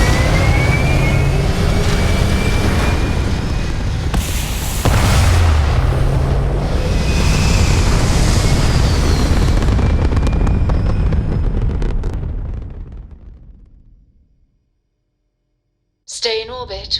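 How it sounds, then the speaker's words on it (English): Spaceship thrusters fire in the game Starfield, a loud sustained roar with rumbling bursts that fades into silence, followed by a short electronic tone. "All thrusters firing."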